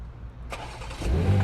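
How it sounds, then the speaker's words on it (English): A BMW M2 G87 fires up by remote start, a brief crank followed by the engine catching into a low, swelling rumble at close range. "If you press 3 times on the lock button, it starts."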